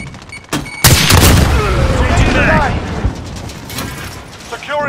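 Heavy gunfire erupts in the Battlefield first-person shooter game, a loud blast near one second followed by continuous rattling shots and rumbling chaos, with radio-style in-game voice callouts layered over the combat.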